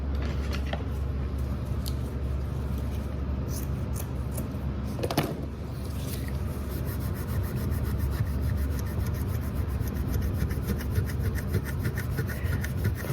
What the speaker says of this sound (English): So I'm just gonna get a bit of an abrasive and get that off.